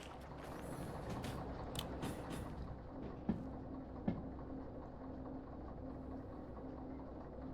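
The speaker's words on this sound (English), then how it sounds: "Go catch that engine before it runs away." A train locomotive rumbles steadily in the Derail Valley railway game, a constant low mechanical drone with two sharp metallic clanks partway through, heard alone without talk.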